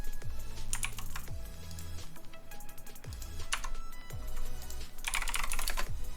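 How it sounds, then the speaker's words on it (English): Rapid computer keyboard typing, with bursts of sharp close clicks and brief pauses between them, fairly loud and continuous, with no talking. "Keep giggling at the keyboard noises triggering the talking animation. Yeah. Just relentless clicking."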